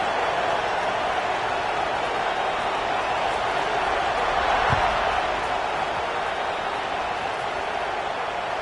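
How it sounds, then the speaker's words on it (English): Football stadium crowd at a college game buzzes steadily right after a score and extra point, a dense, continuous roar of many voices with a brief sharp thump midway. "this crowd is buzzing after that last score"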